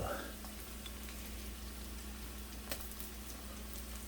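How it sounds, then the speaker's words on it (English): Garlic, a heaping spoonful, hits a hot pan for braised short ribs and sizzles steadily, a loud broadband frying hiss with a brief burst as it lands, then continuous crackle. "at this time we will throw garlic in"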